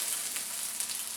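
Curry leaves frying in hot oil in a pan while preparing potato bonda: a steady, close hiss of sizzling with small crackles, heard alone.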